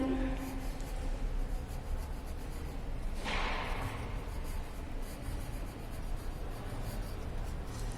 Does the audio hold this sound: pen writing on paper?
yes